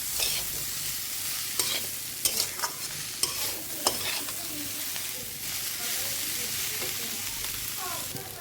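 Bitter gourd and potatoes fry with garlic and cumin in a pan, giving a steady close sizzle broken by several sharp clinks of a stirring spoon.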